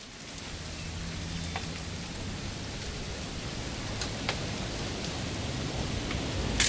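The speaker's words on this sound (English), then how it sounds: "It's gonna rain the whole weekend" Rain pours down in What Remains of Edith Finch, a dense, constant wash of droplets with occasional sharper splashes and a faint low rumble, swelling slightly louder toward the end.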